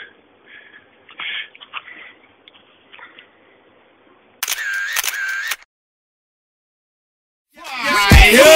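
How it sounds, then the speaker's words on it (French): Single-lens reflex camera shutter clicks in a short burst, close and crisp, preceded by quieter handling noises and followed by a louder rustling burst after a pause. "je vais prendre une photo et je reviens."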